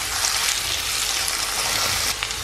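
Ingredients drop into hot oil where mustard seeds have already popped, giving a steady, fairly loud broadband sizzle that runs unbroken throughout with no talking.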